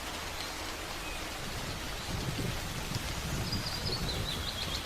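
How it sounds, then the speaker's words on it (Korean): Steady, dense rain falls through a Nordic forest near a cabin, a continuous soft hiss with a faint bird call drifting in near the end. "숲을 적시는 빗방울이 공기를 촉촉하게 만들고"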